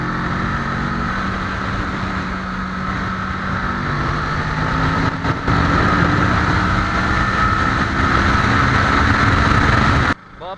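A 2017 Kawasaki Ninja 650 KRT twin-cylinder motorcycle on the move, its engine droning steadily under heavy wind rush for the whole stretch, with a brief dip midway and an abrupt drop near the end.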